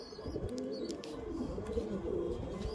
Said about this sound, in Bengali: এটা মাদি পায়রা আছে আর এই একটা নর পায়রা আছে